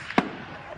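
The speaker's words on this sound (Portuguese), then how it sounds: "Tiros podem ser ouvidos nesse vídeo" One sharp, loud crack rings out once against a quiet background, like a single gunshot at moderate distance.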